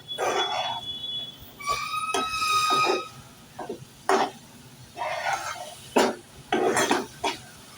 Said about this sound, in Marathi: हा सुका जवळा घेतलेला आहे. आता हे परतवून घेऊया.